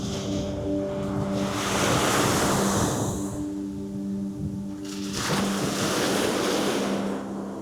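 Waves surge and wash onto a volcanic beach on Cape Verde while strong wind buffets the microphone in a steady roar.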